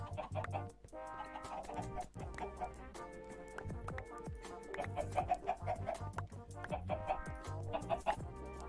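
Chickens roaming loose in the video game Stoneblock 2 cluck repeatedly in quick, overlapping bursts against game background sounds, steady and moderately loud with no talking.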